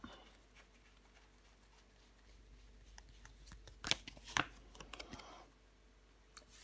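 Tarot cards are laid down and handled on a table during a reading, giving a few quiet soft slaps and shuffling rustles clustered together in the middle, with a faint one near the end.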